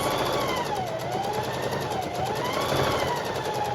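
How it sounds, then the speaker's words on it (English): A sewing machine stitches along the edge of an envelope pillow, giving a steady, close, continuous mechanical whir with no break and no talking. "I'm just going to sew along the edge of this"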